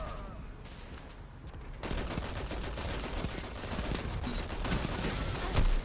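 Rapid auto rifle fire in Destiny 2, a dense, continuous stream of shots that picks up partway through and keeps rattling steadily, with game sounds behind it.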